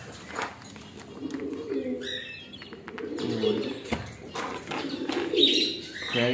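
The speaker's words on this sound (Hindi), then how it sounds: "उस कबूतरी को पकड़ कर मैं बंद कर देता हूँ" Pigeons coo and chirp softly nearby in a small home aviary, with wing flutters at moments and someone talking over much of it.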